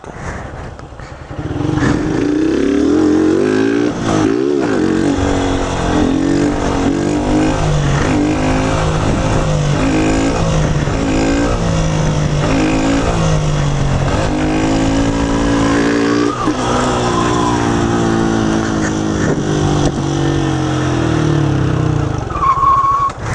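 Motorcycle engine with a start kit revving hard, loud and close throughout, with repeated rising and falling throttle sweeps and sustained high revs, no talking.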